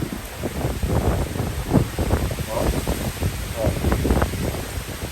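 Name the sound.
strong wind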